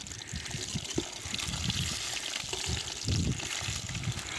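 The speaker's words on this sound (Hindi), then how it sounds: "ऑयल है जो हमारा वो गर्म हो चुका है। अब इसमें डालते हैं मछली" Fish sizzling as it fries in a pan of hot oil over an outdoor fire by a river, a steady crackling hiss with bursts of spitting, close and fairly loud throughout.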